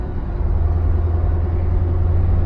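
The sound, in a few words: cars in traffic queue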